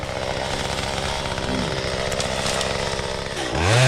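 A chainsaw trimming tree limbs up in the canopy runs loud and close with a steady buzzing drone, then revs sharply higher near the end.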